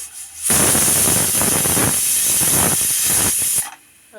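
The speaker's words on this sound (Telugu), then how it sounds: "విసిల్ వచ్చిందండి రెండు విసిలు" A pressure cooker whistle releasing steam while kalagura cooks, one loud sustained hiss that starts abruptly, holds steady for about three seconds and then cuts off.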